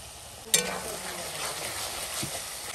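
Spices with salt, turmeric and chili powder frying in a pan, cooked for a village-style prawn biryani: a steady soft sizzle with a sharp clink near the start and a light tap later.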